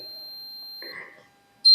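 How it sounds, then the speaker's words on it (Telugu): A digital multimeter in continuity buzzer mode gives a steady, clear electronic beep for about a second as its probes touch; a voice briefly follows, then a second loud beep begins sharply at the end. "ఇలా సౌండ్ వస్తుంది అంటే కంటిన్యూటీ మోడ్లో ఉన్నట్టు అనమాట"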